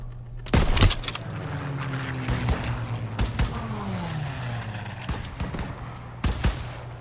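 Scattered gunshots in Call of Duty: WWII, sharp reports and bursts spread across the clip over a steady mechanical rumble of battlefield noise, with no clear voices.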